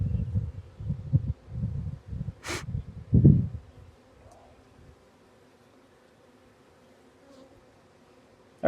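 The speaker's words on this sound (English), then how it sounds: "that's covered in bees as well" Honeybees buzz over a hive frame in close, low, pulsing swells for the first few seconds before fading to a faint, near-silent background hum.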